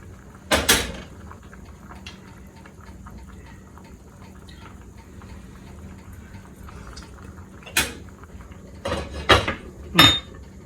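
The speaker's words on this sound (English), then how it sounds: "I got a spoon out of here. I'm gonna get another one." Kitchen sounds while cooking Southern Hoppin' John: a sharp drawer or cupboard clatter, then a quiet stretch of low hum and faint simmering, followed by several quick clinks and knocks of a spoon and utensils near the stove.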